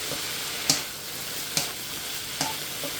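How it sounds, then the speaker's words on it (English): Steady close sizzling from chicken and vegetables stir-frying in a hot pan, with a few sharp scrapes of a utensil stirring at intervals. "now it's dry again, so you can hear it sizzle"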